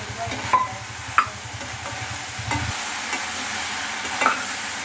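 Roasted lentils sautéed with chutney ingredients such as green chilli in a pan, steady sizzling frying under repeated scraping stirs and occasional clacks of the spoon on the pan, close and continuous without speech.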